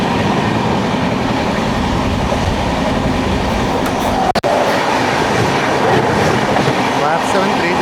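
The Alappuzha–Dhanbad Express rolls past at close range with a loud continuous rumble and rhythmic clickety-clack of wheels over rail joints, broken by a sharp brief gap midway.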